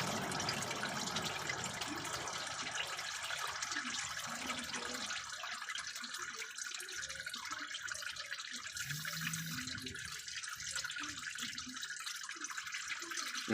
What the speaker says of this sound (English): And then just let it drain. It's gonna have a little bit of fluid there.